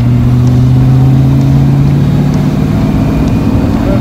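A silver coupe on its first drive since a fire holds a loud, steady engine drone from inside the car, with a constant low hum throughout.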